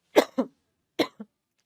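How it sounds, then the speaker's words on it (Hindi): Several coughs from an unwell woman teaching a Class 10 civics lesson in Hindi, two close bursts then a pause and a harsher cough with a short follow-up, loud and near with no talk over them. "खांसी होती रहेगी, मेरे को तबीयत थोड़ी सी खराब है।"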